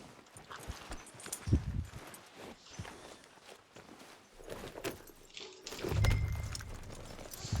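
Horse hooves in the video game Red Dead Redemption 2 clip-clop at a walking pace on a hard surface, with faint jangling and rustling around them.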